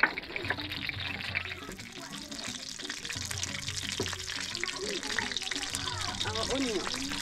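Stinky fish being washed in water outdoors during village cooking in Ghana, a steady splashing and running-water wash with liquid sloshing, close and continuous, with background noise throughout.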